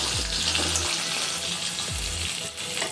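Small onions frying in a pan for moringa-leaf dal, a steady close sizzle with bright crackle that carries on throughout, and two short low thuds from handling the pan.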